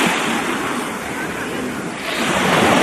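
Sea waves wash in at the seaside, a steady broadband surf rush swelling and easing over a few seconds, loud and close, with wind buffeting the microphone.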